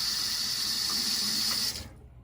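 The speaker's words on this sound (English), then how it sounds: "Quick rinse, ready." Tap water running into a sink to rinse a Razorock SuperSlant safety razor, a steady close gush that cuts off abruptly near the end.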